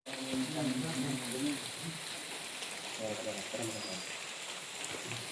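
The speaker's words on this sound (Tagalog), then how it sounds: "Ang lakas na ng ulan." Heavy rain hisses steadily as a dense, even wash, with a voice talking over it near the start and again in the middle.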